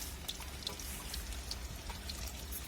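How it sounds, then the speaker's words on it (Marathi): Fenugreek leaves being washed with running water, a steady close splashing and trickling stream with small scattered drip sounds throughout. "तर पाण्याने चांगली स्वच्छ धुवून घ्यायची आपली भाजी."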